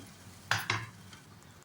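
Masala paste for goat trotter curry frying in oil in a pan: a soft continuous sizzle broken by two quick scraping stirs of a spoon against the pan, close and fairly quiet.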